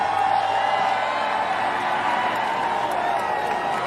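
A NASCAR race crowd roars for a winning driver: a broad, steady wash of distant cheering, whoops and clapping with no single voice standing out.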